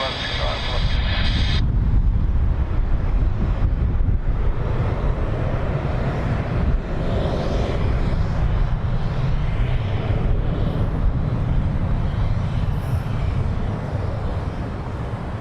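An aircraft taking off from runway 16 right at Sydney Airport gives a loud, steady broadband roar with wind buffeting, sustained for the whole stretch while radio voices talk over it.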